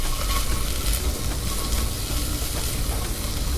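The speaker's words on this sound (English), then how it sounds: "as the rest of your veggies saute" Vegetables and garlic sauté in a saucepan over medium heat, giving a steady, continuous sizzle and hiss that stays close and even throughout, with no talking.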